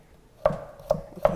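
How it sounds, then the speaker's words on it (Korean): A kitchen knife julienning radish into thin strips for kimchi, with three sharp, distinct chops landing on a cutting board at a steady, unhurried pace, close and clear with no talk. "무채를 썰고 옆으로 길이대로 이렇게 길이대로 또 채를 썰어주는 거예요"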